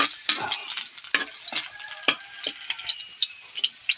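Eggs being scrambled and fried in a pan with onions, crackling sizzle broken by repeated scraping stirs and sharp spatters, close and steady over several seconds, no talking.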